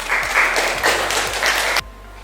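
A classroom audience claps for a student's presentation. The applause is loud and close, with uneven rhythm, and stops abruptly after about two seconds.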